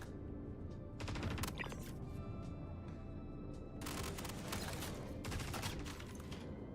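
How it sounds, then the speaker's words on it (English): Bursts of SMG fire in the video game Star Citizen, two dense clusters of rapid shots separated by a steadier stretch of background noise, close and fairly loud with no talking. "Let's see what the reach is on this SMG."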